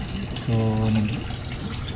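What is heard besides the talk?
water overflowing from hose into backyard crayfish tank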